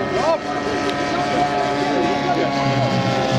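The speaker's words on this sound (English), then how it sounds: "Lovely soft landing there by Betty." A radio-controlled WW1 scout fighter plane comes in to land. Its engine drones loudly and steadily throughout, with voices talking over it.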